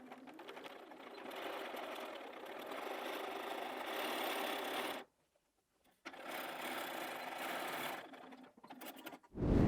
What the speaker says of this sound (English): I'm going to just sew past it and then back stitch.